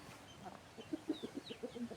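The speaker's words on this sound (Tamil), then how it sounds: "நம்ம கோழிகள்லாம் சேவலெல்லாம் அரிசி சாப்பிட்றாங்க" Chickens and roosters eating scattered rice give soft, quiet clucks in a loose irregular series, fairly close but faint.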